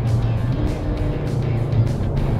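A Porsche Cayman GT4 RS engine drones steadily on the Poznań race track, a loud continuous low-pitched hum heard from inside the car with no talk over it.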